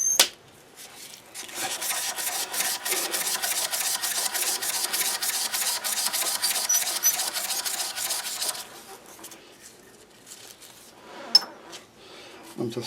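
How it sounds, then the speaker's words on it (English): A segmented pen blank of Corian and aluminium is sanded with a continuous, close, dry rasping rub that holds steady for several seconds before stopping, with quieter handling sounds on either side. "As you can see, the sanding doesn't take long for each grit."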